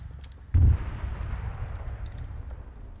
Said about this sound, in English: Some artillery going in.